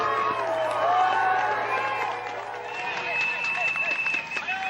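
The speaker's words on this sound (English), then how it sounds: "there is a great crowd on the Ballon" A large roadside crowd on the Ballon climb of the 2005 Tour de France cheers and shouts in a continuous, fairly loud wash, with whistles and scattered clapping and a commentator talking over it.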